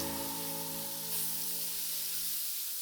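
Ground meat seasoned with salt and pepper fries in a skillet, giving a steady, moderately quiet broadband sizzle that holds evenly throughout with a constant low hum underneath.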